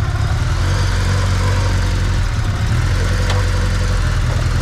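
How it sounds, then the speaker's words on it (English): Nissan Pulsar Q N13 with a turbo engine idling steadily, a continuous low, even rumble with a constant engine drone and no revving. "this is Turbo N13 Nissan Pulsar Q N13 turbo engine"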